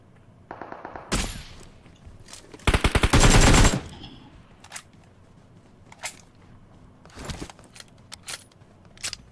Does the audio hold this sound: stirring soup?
no